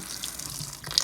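Tap water runs steadily into a sink while mangoes are washed for a traditional Mangalore mango pickle, a continuous close splashing hiss with no talking.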